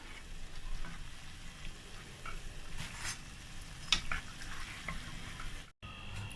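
Steady crackling sizzle of doughnut dough frying in hot oil, continuous and close, with a few faint clicks and a brief dropout near the end.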